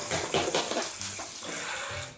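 A brush scrubs inside a bathtub drain in quick, wet, bristly strokes, close and continuous over running water.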